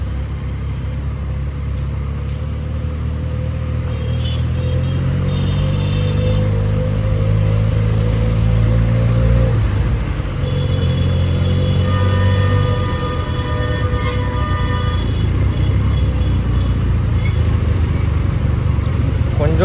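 Steady road traffic hums throughout, with engines droning and vehicles passing nearby, a continuous rumbling wash of noise with occasional higher tonal whines.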